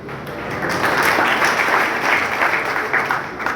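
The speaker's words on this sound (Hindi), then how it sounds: "बार बार हाथ ताली क्यों देते हो यार?" Party workers at a Haryana election rally meeting in Mahendergarh clap together in a sustained burst of applause, a dense crackling patter that rises quickly and continues steadily, with no talk over it.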